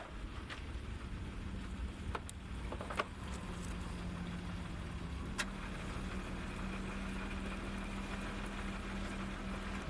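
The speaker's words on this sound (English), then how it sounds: "Yeah, the car's running." A car engine idling outdoors during a car wash, a low steady rumble with a faint hum, accompanied by a few scattered knocks and clicks nearby.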